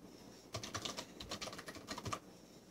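Password keystrokes on a computer keyboard: a quick, soft run of clicking keys, close but quiet, with no voices.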